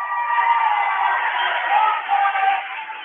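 Spectators at a wrestling tournament cheering and applauding from across the gym, a distant, band-limited roar of crowd voices that rises and falls under a commentator talking.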